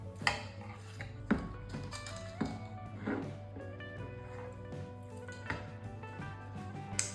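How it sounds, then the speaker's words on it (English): Knife slicing spit-roasted topside beef on a board, with scattered clinks and taps of blade and dishes at an irregular pace, fairly quiet and close, with no talking. "it's time to slice this topside beef up"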